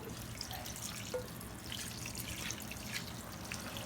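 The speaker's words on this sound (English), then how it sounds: "So now I'm going to add my water that I use for my meats." Water poured from a container into a pan while fried rice cooks on the stove, giving a steady splashing pour with a few drip-like accents, close and moderately loud, with no talking.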